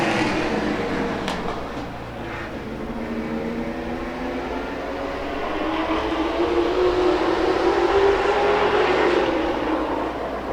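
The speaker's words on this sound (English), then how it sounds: "Green flag racing with the Sportsman." Sportsman class race cars roar around a track under green flag at heat races, a steady dense engine drone that rises gradually in pitch as the bunched field accelerates, with no talk.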